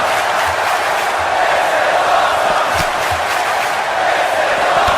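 A wrestling arena crowd gives off a loud, steady roar of excited reaction, with scattered shouts inside the broad, continuous din.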